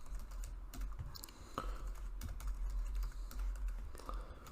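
Typing on a computer keyboard while writing a line of Java code: a quiet, fairly close run of quick key clicks in an uneven rhythm, with no voice over them.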